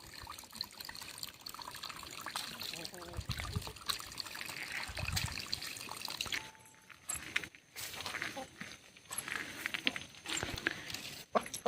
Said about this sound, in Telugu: ఇంకా అలా నీళ్ళు పోతున్నాయే.